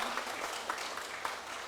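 Church congregation clapping together during a worship service, a steady, even wash of applause with a few sharper hand claps standing out, sustained throughout with no voices.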